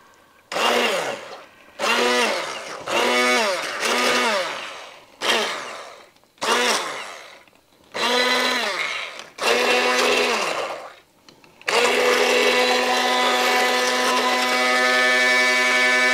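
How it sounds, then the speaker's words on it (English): Immersion blender pureeing a loaded cauliflower soup, run in seven short bursts with the motor pitch dipping under load, then held in one loud continuous whir for the final few seconds. "you can use your immersion blender and make it"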